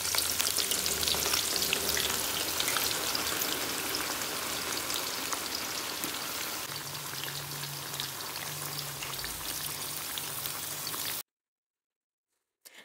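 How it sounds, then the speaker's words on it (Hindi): Sliced onions frying in hot oil in a kadai, a dense, loud, rain-like sizzle that runs steadily for about eleven seconds before cutting off. "अब हम इसमें प्याज डालेंगे।"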